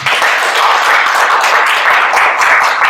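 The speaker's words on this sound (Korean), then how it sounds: "양세훈 박사님을 큰 박수로 환영해 주시기 바랍니다" Sustained applause from a seated audience fills a lecture hall, welcoming a guest speaker to a social economy training session; dense, steady clapping with no talking over it.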